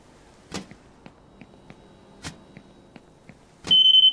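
Fryer timer in the Fast Food Simulator game, heard as a loud steady electronic alarm tone that starts near the end after a few scattered clicks and taps.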